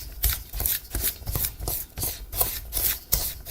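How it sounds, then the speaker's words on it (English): A cup and a half of sugar is stirred by hand into a creamy Sicilian Easter mixture, making close, gritty scraping strokes that repeat about every half second with no talk. "I'm going to add my cup and a half of sugar. I'm going to stir that up."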